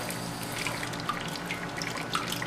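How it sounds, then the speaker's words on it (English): Water runs and trickles from a toilet fill valve that still leaks after flushing, a steady faint hiss with small splashy drips, no voices. "See, the water still leaks out."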